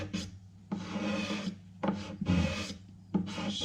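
A hand scraper working along the edge of an oak window sill, producing long rasping strokes, about four close, fairly quiet passes with brief pauses between them.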